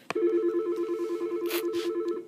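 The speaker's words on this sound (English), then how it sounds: "And my phone's ringing" A telephone ringing nearby, a steady warbling electronic ring tone that starts after a sharp click and pulses continuously, with brief rustling noises partway through and no talking.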